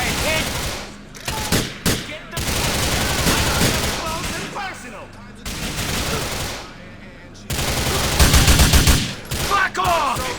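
Gunfire in the video game GTA 4: dense, loud bursts of shots and rapid automatic fire fill most of the clip, with brief gaps and in-game voices shouting over the shooting.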